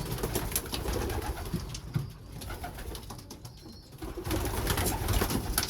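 Young pigeons coo softly and repeatedly at a loft nearby, with rustling and light flapping mixed in and a brief quieter gap in the middle.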